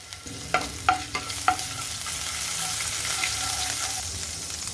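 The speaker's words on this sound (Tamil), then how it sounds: "எண்ணெய் சூடானதுக்கப்புறம் இதில் இஞ்சி பூண்டு பேஸ்ட்டு," Ginger garlic paste frying in hot oil in a kadai, giving a steady broad sizzle with a few sharp spatters and stirring scrapes near the start. The sound is close and alone, with no talking.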